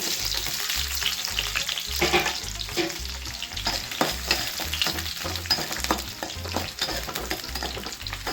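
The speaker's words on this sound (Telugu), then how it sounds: "ఇప్పుడు ఆయిల్ వేడెక్కిన తర్వాత కట్ చేసిన ఆనియన్ ముక్కలను వేసుకుంటున్నాను" Cut onion pieces drop into hot oil for a peanut chutney and fry with a continuous close sizzle, broken by repeated clatters from stirring throughout.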